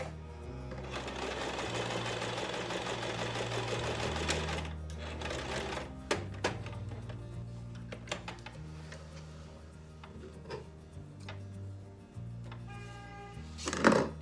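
A sewing machine stitches fabric for a dog bandana collar slip, running in steady whirring bursts with short pauses and clicks between passes, close and clear with no talking.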